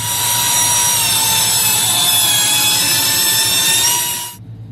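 Dotco air tool fitted with a chamfer attachment and support bearing cutting an edge at 15,000, a loud, steady high-pitched whine with grinding texture that runs for about four seconds and then cuts off abruptly.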